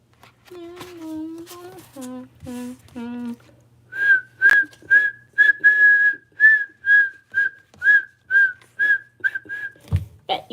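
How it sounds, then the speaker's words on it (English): A person whistles a tune alone, first a few short low-pitched phrases, then a long run of steady high-pitched repeated notes in an even rhythm, fairly close and clear. "Bet you guys didn't believe I knew how to whistle."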